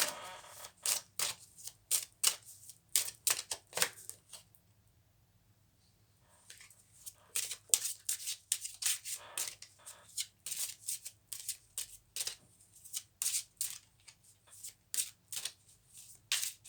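Angel oracle cards are shuffled in rapid riffling bursts, pause for a quiet couple of seconds, then shuffle again in a long run of crisp flicks and taps close by.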